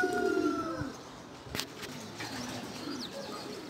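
A pigeon coos softly at the start, a low murmuring call followed by quieter rustles and faint outdoor chirps.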